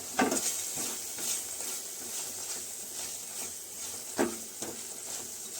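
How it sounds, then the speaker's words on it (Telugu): Coriander and mint leaves frying in oil in a pan for a cauliflower curry, a steady close sizzle with a few louder stirring scrapes near the start and again toward the end, with no talking. "ఇప్పుడు మనం తీసి పెట్టుకున్న కొత్తిమీర, పుదీనా వేసి వేయించుకోవాలి."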